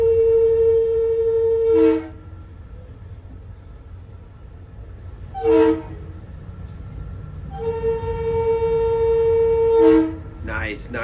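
Long Island Rail Road locomotive 9916 sounds its horn in long, loud chorded blasts, one early and a longer one later, heard from aboard the moving train over a steady rumble of wheels and cars.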